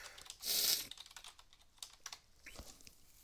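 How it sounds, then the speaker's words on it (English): Soft, irregular keyboard typing heard close up, scattered clicks and taps with a brief louder burst near the start. "you could probably hear me typing on the microphone"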